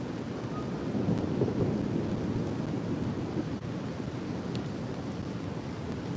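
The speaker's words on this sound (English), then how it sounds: "You may also hear the sounds of thunder in the background." Low, continuous rumbling roar of thunder mixed with steady rain hiss in a park, heavy and sustained throughout with no voices.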